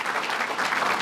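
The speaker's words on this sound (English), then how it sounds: "I want everyone to clap for that, because it's very, very generous of Bill" Brief, steady audience applause at a political event for a Chicago mayoral candidate, a dense patter of many hands clapping with no voices.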